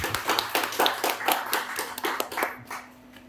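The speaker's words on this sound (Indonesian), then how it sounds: "Mari kita berikan tepuk tangan." Audience clapping for a guest speaker, Bapak Hendrik Sembiring, arriving at a church testimony program. Irregular handclaps, fairly close, run about two and a half seconds, then fade out as a low tone lingers.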